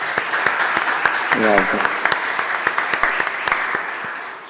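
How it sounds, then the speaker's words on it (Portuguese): Audience applause at a webinar on CRM sales technology, a steady wash of clapping from the room that rises briefly and then fades, with someone speaking over it throughout. "Eu peço que os recebam com uma salva de palmas,"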